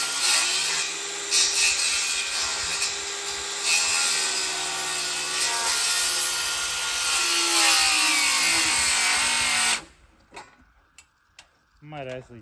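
Wood is sawn by hand to cut a floating roof for a generator shed. Rhythmic back-and-forth strokes sound close and steady for about ten seconds, then stop, leaving a few faint clicks.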